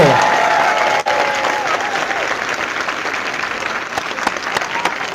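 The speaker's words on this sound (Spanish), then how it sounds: "Aplauso para la iglesia católica" Applause breaks out in a church congregation after a priest's call to cheer the Catholic Church, a full wash of clapping with a brief dip early on and a few crisp claps toward the end, a faint voice trailing at the start.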